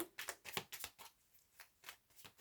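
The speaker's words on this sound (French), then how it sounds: "Je vais remélanger pour avoir le dos." Tarot cards being reshuffled by hand, a quick series of crisp riffling bursts and soft slaps close to the microphone, pausing briefly midway before a few more shuffles.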